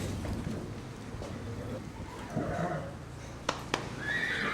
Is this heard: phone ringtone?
no